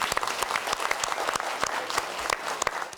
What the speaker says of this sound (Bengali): আমরা নর্দার্ন ইউনিভার্সিটির জন্য সবাই জোরে তালি দিতে চাই